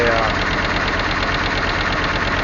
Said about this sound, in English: the engine is just idling